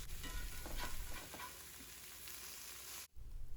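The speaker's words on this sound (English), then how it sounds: "Keep turning and mixing the hash every few minutes until it is browned and crisp to your liking." Corned beef hash sizzles steadily in a hot pan while a utensil turns and mixes it, with a few scraping strokes early on, close and continuous, no voices.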